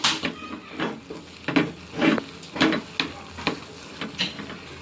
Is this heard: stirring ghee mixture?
yes